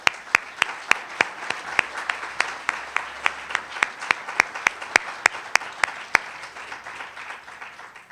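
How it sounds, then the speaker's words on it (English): A conference audience applauds itself at a food leadership gathering, a soft bed of crowd clapping punctuated by one person's loud, evenly spaced claps close by, repeating steadily for about eight seconds. "I'd like to actually end this by having everyone just give yourselves a round of applause for"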